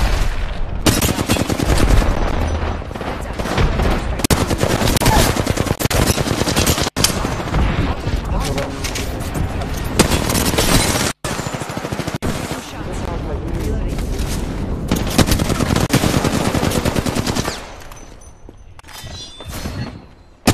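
Gunfire in the video game Apex Legends, a dense loud stream of rapid automatic shots with a few breaks, fading out near the end while players talk over it.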